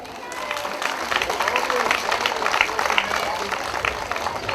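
An audience at a Lchashen village event applauds for soldiers guarding the borders, with sustained, dense clapping from a crowd and continuous voices mixed in throughout.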